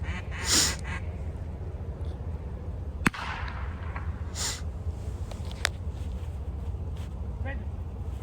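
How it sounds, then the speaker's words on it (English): A Versa launcher in the middle of an open field fires a retriever training mark with one sharp, loud crack partway through, over steady wind rumble, with brief duck-like quacks nearby. "We're going to send a mark out from the Versa launcher out there in the middle of the field."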